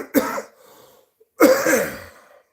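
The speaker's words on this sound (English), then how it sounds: "it really makes me cough a lot." Two short, harsh coughing bursts about a second apart, close and fairly loud, separated by near silence.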